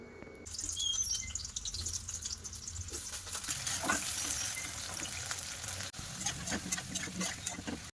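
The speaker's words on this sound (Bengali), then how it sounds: "আলুগুলো ভাজা করা হয়ে গেছে" Potato pieces frying in hot mustard oil in a wok, a steady crackling sizzle that holds close and fairly loud through the whole stretch, with a brief dip near the end.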